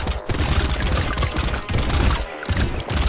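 Dense, continuous barrage of explosions and crackling impacts from splash-damage weapons in the video game Brotato, loud and busy throughout with brief dips, no talking.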